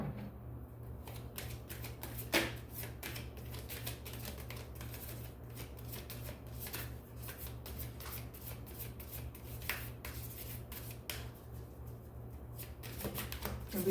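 Oracle cards are shuffled by hand in a fast, continuous riffle of soft, close flicks and rustles lasting several seconds, over a low steady hum.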